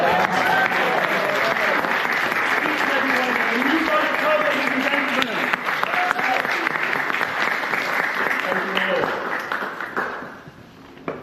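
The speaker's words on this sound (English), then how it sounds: "Please can we get a round of applause?" An audience at a Liverpool toastmasters club meeting breaks into sustained, dense applause that holds steady for about ten seconds, then thins and fades out near the end.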